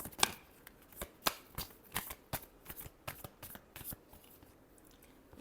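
Tarot cards being shuffled by hand, a quiet, close series of riffling snaps and soft papery flutters in irregular bursts, with no talking.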